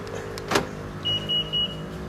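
A car is locked with its remote key fob: three short, evenly spaced electronic chirps ring out clearly after a brief click, over a faint steady background hum.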